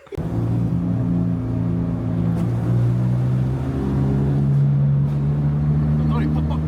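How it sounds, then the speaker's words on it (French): Car engine revving and running nearby, a loud, steady droning rumble with shifting tonal pitch that rises and dips, continuous for several seconds. "on va faire vroom vroom avec la voiture"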